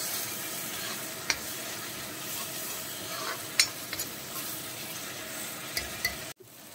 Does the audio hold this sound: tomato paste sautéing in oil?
yes